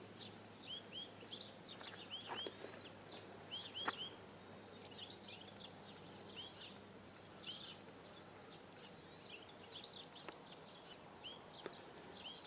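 Countryside birdsong in Mountfield, with many small birds chirping and trilling at a distance across a quiet rural lane, a soft steady outdoor hiss underneath.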